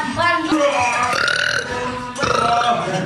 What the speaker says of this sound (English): Can you still burp 20 times?